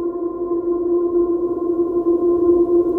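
Elektron Model:Cycles synth tone held under an infinite reverb setting, a steady sustained drone that hangs evenly without decaying for a few seconds.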